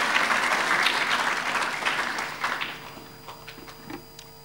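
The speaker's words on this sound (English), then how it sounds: "please give a round of applause for that as well." Audience at a youth leadership forum breaks into full applause that thins out over a few seconds into scattered, isolated claps.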